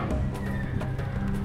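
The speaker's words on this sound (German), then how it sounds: "Der Kampflärm scheint die Pferde heute besonders nervös zu machen." Nervous horses neigh and whinny in a stable in the video game Geheimakte 3, a loud, close burst of shrill whinnying with some stamping beneath.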